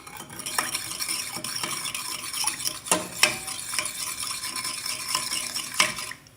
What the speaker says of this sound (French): on mélange pour que le sucre soit un peu dissous dans l'eau